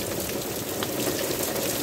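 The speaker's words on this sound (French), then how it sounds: "Tu entends les grondements. C'est une belle pluie qui dure déjà depuis un quart d'heure, 20 minutes." Steady rain falling outdoors in a garden, a continuous close patter and hiss with no distinct rumble standing out, and no talking.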